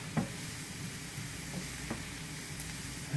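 Onions and garlic sautéing in a pan give a soft, steady sizzle, with a few light scrapes and stirring clinks scattered through, fairly close and without talk.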